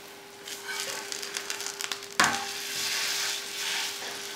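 Ragi roti frying in a little oil on a pan over a low flame gives a steady close sizzle with crackling pops, a sharper burst midway, then a broad hiss.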